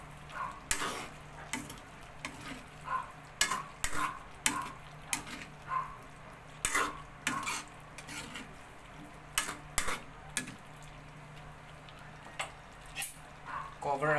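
Pork stew being stirred in a pot after black pepper and seasoning go in, with scattered clinks and scrapes of a utensil against the pot and a soft simmering sizzle underneath; a voice talks in between.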